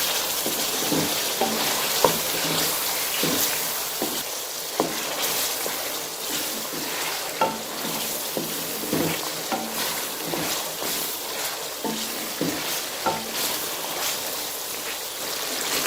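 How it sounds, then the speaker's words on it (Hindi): Beef browns in a pan for Afghan Kabuli pulao, a continuous close sizzle broken by regular scraping and clattering stirring strokes throughout, with no talking. "और गोश्त को इसी तरीके से अच्छे तरीके से भून लेती हूँ।"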